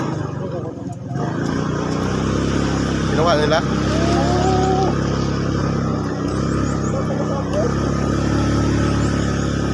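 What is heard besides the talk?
motorcycle engine climbing uphill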